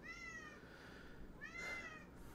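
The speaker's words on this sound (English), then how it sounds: "with my cat screaming in the background" A cat meows twice at a distance, faint and drawn out, with the two cries spaced apart over a quiet background.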